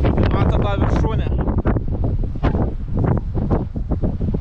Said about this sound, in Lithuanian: Toks va vėjas.